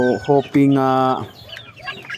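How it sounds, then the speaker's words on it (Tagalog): Chickens cluck loudly and close in a backyard flock, a few sharp harmonic calls and a longer drawn-out cluck, with someone talking softly in the background. "nag-update lang ta diri mga ka-vlog sa to ang mga manok"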